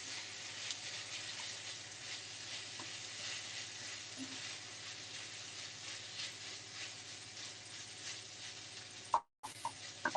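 Beef Rogan Josh curry with peppers being stirred in a pan, a steady sizzle and soft scraping running continuously for about nine seconds, then a brief gap and a couple of small clatters at the end.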